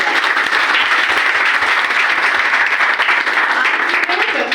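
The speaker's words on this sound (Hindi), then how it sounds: "सही जगह पर एक बार जोरदार तालियां अपने लिए" Loud, dense applause from a large audience at a Modicare business meeting, continuous and sustained throughout without pause.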